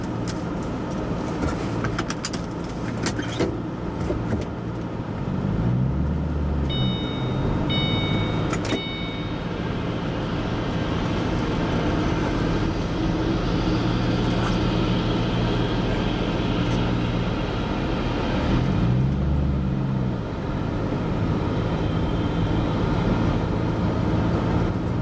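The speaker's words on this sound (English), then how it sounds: "I'm driving over a bridge." A car drives across a bridge, a steady loud road and engine rumble throughout with two deeper thumping passes over expansion joints midway and near the end, no voices.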